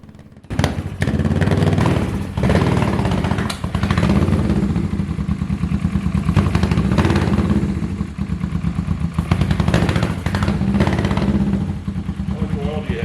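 A Kawasaki Ninja 650 engine runs steadily up close, a loud continuous mid-pitched drone with rattly clatter and slight revving variations, while voices talk over it.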